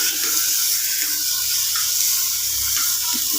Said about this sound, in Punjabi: ਗਰਮ ਘਿਓ ਇੱਧਰ ਲੱਗ ਰਿਹਾ ਦਾਲ ਨੂੰ ਤੜਕਾ